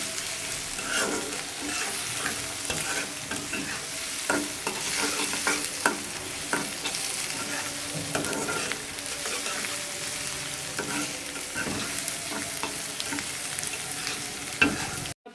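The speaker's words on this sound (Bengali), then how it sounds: "পেঁয়াজ ভাজা হয়ে গেছে," Onions fry in hot oil while being stirred, with a dense, steady sizzle broken by repeated scraping and clattering stirs throughout.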